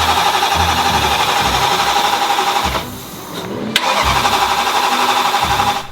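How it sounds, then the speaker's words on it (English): A BMW M3 engine cranks over on the starter without firing to build oil pressure, a loud rhythmic churning whir in two bursts separated by a brief pause. "So first we crank the car over a few times to generate oil pressure."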